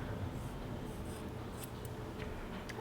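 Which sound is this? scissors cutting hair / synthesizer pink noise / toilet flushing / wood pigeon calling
scissors cutting hair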